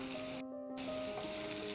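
Mushrooms sizzle in hot oil with a close, steady frying hiss, cut by a brief silent gap early on, and a faint tonal hum runs under it.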